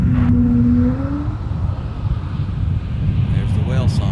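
An airliner's engine at Minneapolis airport gives a long, low bellowing moan that sweeps upward like whale song, heard close with wind buffeting the microphone and a person talking over it.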